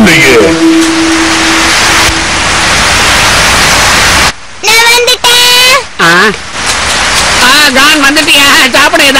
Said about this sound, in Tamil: மழை பெய்யறப்போ வீட்டுக்கும் போக முடியாது